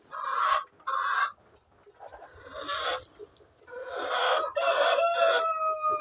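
Hens and a rooster in a henhouse during egg collection give loud, close bursts of clucking and squawking, with brief crowing calls near the end.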